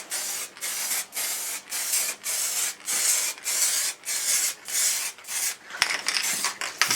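A spray can applies liquid wrap paint to a Triumph Tiger motorcycle in a garage, giving a series of about ten short, evenly paced hissing bursts close by, separated by brief pauses.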